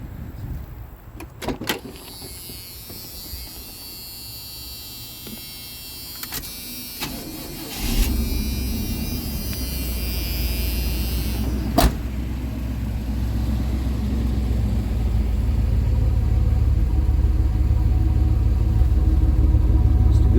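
A 1987 Chevrolet R10 pickup truck engine with original exhaust cranks and catches, then settles into a steady, loud low rumble of idling that fills the rest of the clip.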